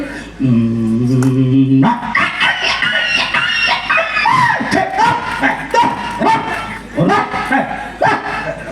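Dogs barking and fighting, with loud repeated snarling barks, yips and growls in a fast, irregular stream, close and harsh, following a short tonal sound at the start.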